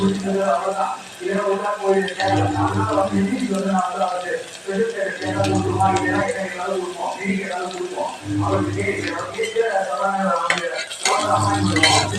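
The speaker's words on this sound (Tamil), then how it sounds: "பெரிய வெங்காயம் சின்ன வெங்காயம் ரெண்டும் சேர்த்து அரிஞ்சு வச்சுருக்கேன். நல்லா பொன்னிறமாக வேகட்டும்" Chopped big onions and small shallots frying for biryani, stirred in a pan with steady sizzling and scraping, heard under a voice speaking almost throughout.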